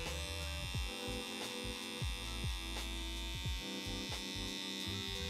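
Electric hair clippers buzz steadily close by while a barber fades hair, a constant electric drone with repeated brief dips and strokes as the blade sweeps through hair.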